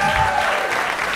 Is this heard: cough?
no